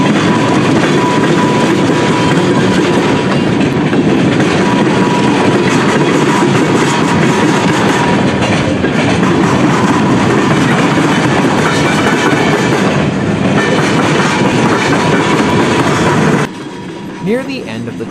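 A long freight train with steel coil cars and boxcars rumbles steadily past close by in sleet, with continuous wheel clatter and rolling noise that cuts off abruptly near the end.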